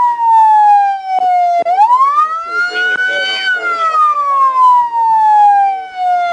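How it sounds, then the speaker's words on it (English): A loud, close police siren wails during a chase of a stolen truck towing a flatbed trailer, its pitch sweeping up and down, while people talk over it. "let me turn that siren off though"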